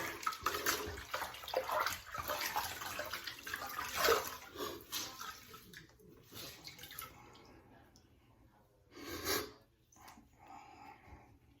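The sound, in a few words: rinsing a straight razor in water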